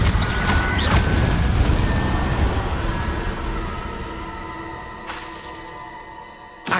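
The Incendio fire spell in Hogwarts Legacy erupts as a loud, close, rumbling blast that roars steadily and then slowly fades over several seconds.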